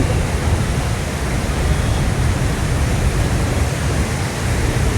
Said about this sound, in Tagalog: maulan na, traffic pa